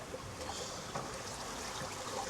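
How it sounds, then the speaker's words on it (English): Sloshy sea waves wash steadily against a sailboat's hull at night in 10 to 13 knot wind, a continuous soft splashing and trickling close by with no talk. "Waves are a little sloshy."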